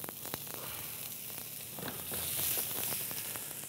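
Thinly sliced ginger and spring onion sizzle in a hot pan with venison, a steady crackling fry with scattered pops that swells slightly toward the end, heard alone without talk.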